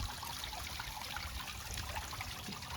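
Water from a complete pond filter kit falls steadily into a small backyard pond, a continuous close trickling splash with no pauses and no talk.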